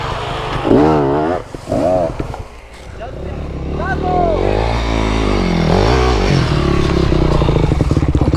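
A motorcycle engine revs and strains nearby, rising and falling in pitch, while people shout over it.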